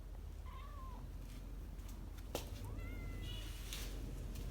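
An injured cat in poor condition meows twice in short, wavering cries, faint against a steady low background hum, with no talking.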